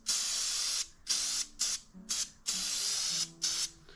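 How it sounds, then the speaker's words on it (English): Rust-Oleum multi-setting spray paint can spraying in a series of loud, close hissing bursts, about seven of varying length with short pauses between, and no talking. "What I'm using here is Rust-Oleum's new type of spray"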